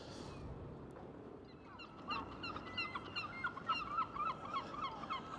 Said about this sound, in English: the sound of the seagulls